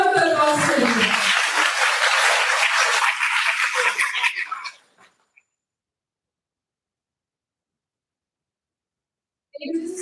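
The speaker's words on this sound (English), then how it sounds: "Big round of applause for them." An audience at a talk on sustainable success claps loudly for about four seconds. The applause fades into near silence, and a voice returns just at the end.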